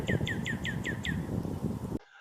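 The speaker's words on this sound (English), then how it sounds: "the other neat thing about cardinal song is that they actually start singing in the spring" A cardinal sings a run of six clear, evenly spaced downslurred whistles over low outdoor background rumble, and the phrase cuts off abruptly.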